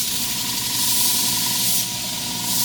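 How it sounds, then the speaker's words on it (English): Shears are sharpened on a worn 400-grit wheel, giving a continuous close grinding hiss that holds steady for a couple of seconds with no speech. "I got a lot of shears to sharpen today."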